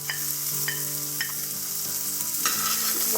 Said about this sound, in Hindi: और अब हम अदरक लहसुन पेस्ट डाल देंगे।